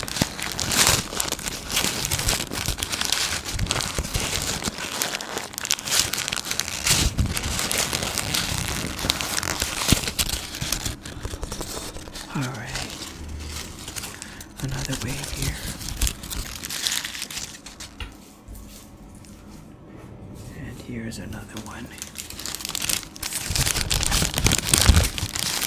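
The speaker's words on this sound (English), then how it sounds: "I'm doing these paper crackling noises." Paper being crumpled and crinkled close up for ASMR, a dense continuous crackling that runs steadily, dips briefly to a softer stretch, then swells back to full loudness near the end.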